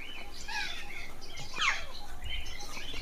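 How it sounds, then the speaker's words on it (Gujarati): Several parrot species call in a park in Rajkot, giving a few shrill squawks and chirps over a soft background murmur, moderately close, with no talking. "આ બધી અલગ અલગ પોપટની પ્રજાતિઓ છે."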